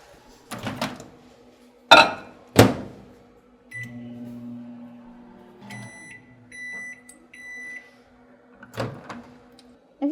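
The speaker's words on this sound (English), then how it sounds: "I'm just gonna microwave this for about 15 to 20 seconds, and it'll warm it up" A microwave oven warms butter in a home kitchen: door thumps and clatter, then a steady running hum with beeps, closing with a final door bang, no talking.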